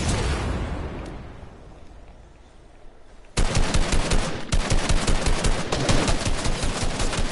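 Video game gunfire breaks out after a quiet stretch of low rumble: rapid automatic bursts in a loud, dense, steady rhythm that carries on to the end.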